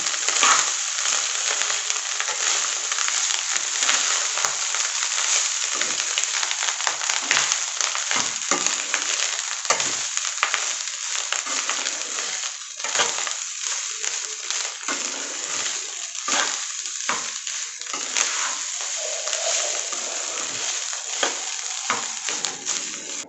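Rice being stir-fried in a hot pan for roadside-style chicken fried rice: a steady, close sizzle runs throughout, broken by irregular scraping and tossing noises from the stirring.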